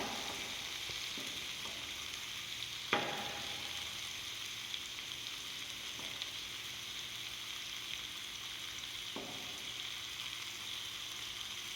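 A cottage cheese steak fries quietly in a pan, a soft steady sizzle with a few distinct scrapes and knocks as it is shifted around to keep it from sticking; no speech.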